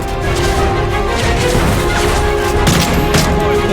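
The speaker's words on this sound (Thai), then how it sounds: "มันยิงระเบิดมาอีกแล้ว" Dense, continuous combat noise from Call of Duty: Modern Warfare 3, with booming explosions and crashes layered over a constant roar, loud and close.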